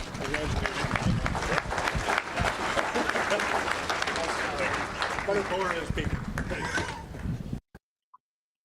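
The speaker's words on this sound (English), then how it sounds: "let's give him a great round of applause" A crowd claps and cheers in sustained applause for several seconds, loud and dense, then it cuts off abruptly into silence.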